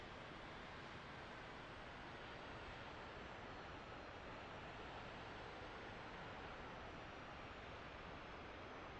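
MiG-19P Farmer jet engine in a flight simulator, throttled back to idle: a steady, broadband roaring whoosh that holds evenly throughout with no voices.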